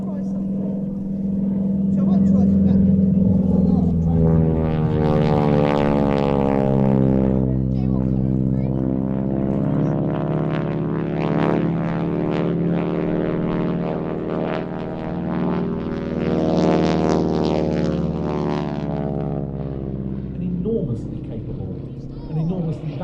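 An advanced trainer aircraft flying a wingwalker display with the Aero Superbatics team, its engine droning loudly with a smooth, rising and falling pass overhead, while people talk underneath.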